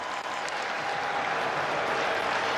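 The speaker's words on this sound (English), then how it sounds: "the crowd roaring behind him as he gets to the 41-yard line" A stadium crowd roars steadily and loudly at a UFL football game between the Houston Roughnecks and St. Louis Battlehawks, a dense, unbroken wash of cheering and applause that holds for the whole stretch.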